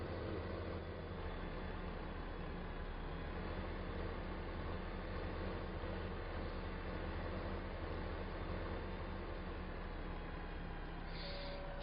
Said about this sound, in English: We got a big train.